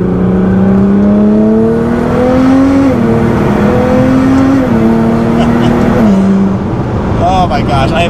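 A Nissan GT-R sports car engine hums steadily while driving on back roads, its pitch rising and falling with gear changes; loud and close throughout.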